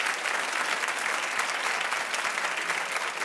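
Studio audience at a daytime talk show breaks into sustained applause, a dense, steady wash of clapping that fills the room for several seconds with no talk over it.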